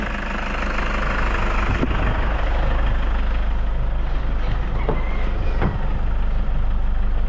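A Toyota Fortuner SUV with a check-engine history runs steadily as it pulls away, its deep engine rumble loud and continuous throughout, with a few brief knocks and clunks but no talking.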